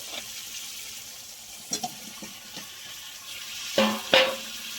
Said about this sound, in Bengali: এবার আমি এই ভেজে রাখা আলুগুলো দিয়ে দেবো